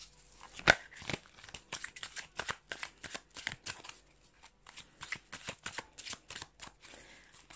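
A deck of oracle cards is shuffled by hand close up, with quick, rhythmic riffling slaps and soft papery flutters repeating for several seconds.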